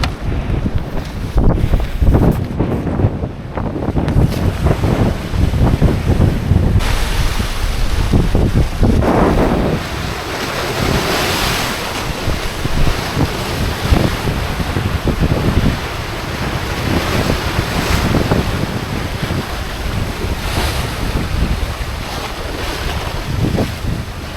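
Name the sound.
waves crashing on the shore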